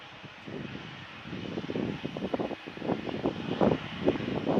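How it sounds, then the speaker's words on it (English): Jet2 airliner idling its engines on a taxiway at Manchester Airport, a distant, low rumbling drone with gusts of wind noise over the microphone, gradually swelling louder. "Got Jet2 just idling with their engines by the sounds of it"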